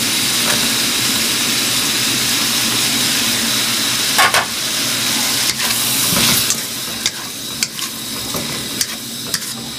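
Peanuts tossed into a hot pan and stir-fried, a loud continuous sizzle with a few sharp scraping and clattering bursts from stirring, close up and with no talking.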